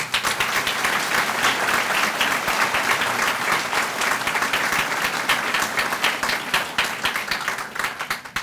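An audience at a middle school move-up ceremony gives sustained, loud applause for the students and crew of the spring musical. Many hands clap in a thick, even roar that holds steady throughout.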